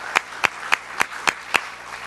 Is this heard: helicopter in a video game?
no